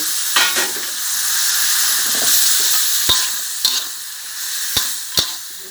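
Pork belly fries in a pan with chili paste and torn kaffir lime leaves, a steady loud sizzle with a few sharp clacks of a spatula against the pan, no talking.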